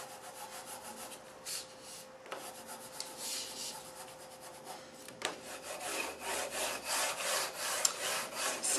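Mounted artwork gets rubbed and smoothed down by hand, a faint, continuous papery rubbing with soft scuffs and an occasional light tap, heard alone in a quiet room.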